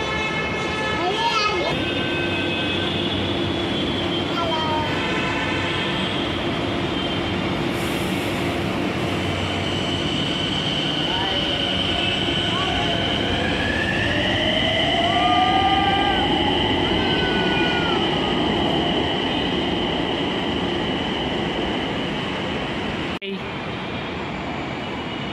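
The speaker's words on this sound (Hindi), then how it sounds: "आ गई अपनी मेट्रो" A Nagpur Metro train pulls into a station, a long rising rumble with whining tones and a sweeping pitch that swells then settles, loud and close, with a voice audible over it.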